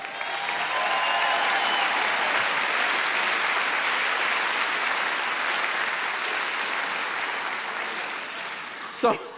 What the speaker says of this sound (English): Y'all give Susan a big round of applause